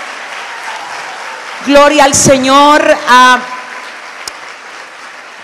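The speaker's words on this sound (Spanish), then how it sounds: "Si le va a dar un aplauso, déselo de verdad" A large church crowd of more than a thousand people claps at a women's event, a soft, diffuse bed of applause beneath a single voice that speaks briefly over it.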